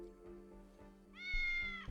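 A cat meows in the video game Tales of the Neon Sea, one clear rising-then-falling meow near the end over a low, steady ambient game backdrop.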